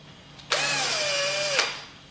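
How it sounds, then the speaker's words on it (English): Power drill driving a fastener into a Z-CoiL shoe spring system, one steady whirring burst of about a second with a rising then settling pitch, close and loud, ending in a small click. "get your drill"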